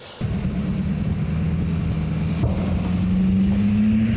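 A Ukrainian Novator armored vehicle with an American automatic transmission starts to move off; its engine rumbles deep and steady up close, then the pitch climbs gradually as it gathers speed.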